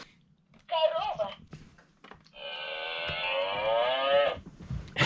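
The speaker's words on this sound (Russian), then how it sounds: "Корова." A cow moos twice, a short low call followed by a longer drawn-out one, fairly close, with faint background noise between.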